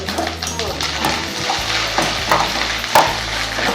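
Grated coconut being stirred in hot ghee for sweet rava laddu, with loud close scraping strokes of a spoon against the pan over a continuous sizzle, several uneven stirs.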